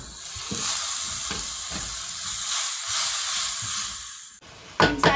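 Chicken pasta ingredients cooking in a pan with soy sauce and vinegar, giving a steady loud sizzle and hiss with intermittent stirring scrapes, then a sudden drop in the sizzling and a few clinks near the end.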